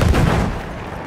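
Gunfire in a video game, a dense burst of loud, low booming shots that fill the whole second and tail off slightly toward the end, with no talk over it.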